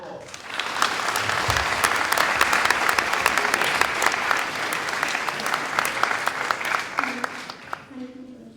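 Sustained, dense applause from an audience at a school Dragons' Den pitch event, loud and steady for about eight seconds before thinning out near the end.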